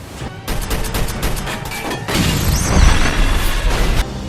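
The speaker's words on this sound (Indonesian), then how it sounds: "dia langsung menembak ke arah bawah yang ternyata di sana sudah ada tumpukan bahan bakar" In a prison-escape film action scene, a rapid burst of loud gunshots cracks in quick succession, then a heavy rumbling blast erupts as a fuel pile ignites and roars for a few seconds.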